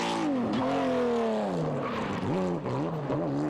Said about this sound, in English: Jochen Klaarhout getting into the rhythm with his Porsche, finding the confidence needed to get the horsepower on the ground with this machine.